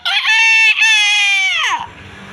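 A person vocally imitates a rooster's crow: one loud, sustained, tonal cock-a-doodle-doo that holds steady, then slides downward and breaks off, leaving quiet room noise.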